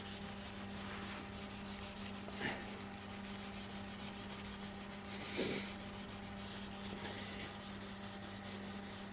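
Sandpaper scrubs varnish off a Brown & Sharpe magnetic chuck caked in grinding dust, a steady close rasping hiss punctuated by a couple of brief knocks, with no voices.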